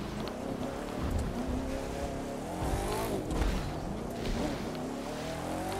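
Car in The Crew 2 video game driving off-road up rocks, with a steady low engine drone and rumbling tires, fairly close and continuous.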